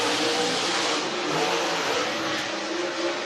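Super Late Model race cars roar steadily as they accelerate around the Whynot Motorsports Park speedway during qualifying, a loud, continuous engine drone with slight pitch shifts and no voices heard.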